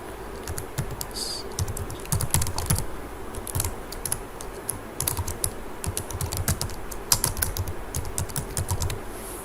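Fingers type on a computer keyboard while entering text in MS Word, a steady close stream of quick key clicks with small irregular pauses and no talking.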